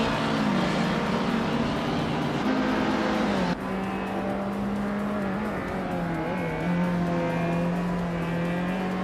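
Race car engines in a racing video game, including a 1964 Abarth 850T Corsa, a loud sustained engine drone that shifts pitch midway as cars rev and accelerate together, with no talking.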